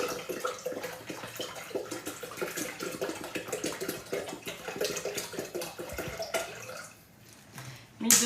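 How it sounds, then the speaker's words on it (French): Water is poured into a Thermomix bowl, 1200 g of it, making a steady splashing, trickling stream close by that thins out and stops near the end, followed by a brief clatter. "Donc, on va mettre 1200 g d'eau."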